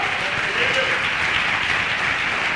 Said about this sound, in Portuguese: dê uma salva de palmas ao Senhor